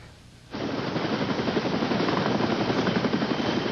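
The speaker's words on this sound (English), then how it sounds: "20-year-old Matt Enriquez was taken by Care Flight helicopter to a nearby hospital" A Care Flight medical helicopter at a brush fire rescue kicks in suddenly with loud, rapid rotor chopping that holds steady and close.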